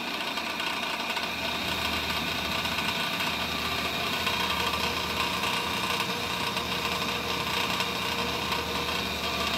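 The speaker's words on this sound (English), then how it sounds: "Now you can actually kind of hear the knocking now." A 1930s Mathes cooler fan with a bad bearing runs with a steady, even mechanical hum. The bearing knock is faint and hard to pick out under the constant drone, and nobody speaks.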